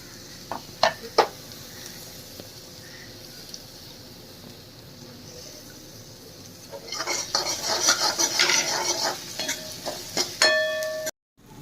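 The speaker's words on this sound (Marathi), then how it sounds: "हे चांगल्या प्रकारे असं भाजून घ्यायचं" Ground chili paste is roasted in a pan while a spoon stirs it. A few sharp metal clinks sound first, then a louder sizzle with scraping builds midway and ends in a brief high ring.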